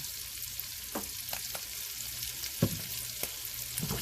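Italian sausage with peppers and onions frying in a pan gives a steady close sizzle, with occasional sharp clinks and scrapes from stirring.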